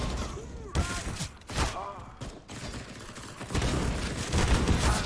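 Shotgun blasts from Counter-Strike: Global Offensive, a few loud booming shots with echoing tails spread across the stretch, dense game noise in between.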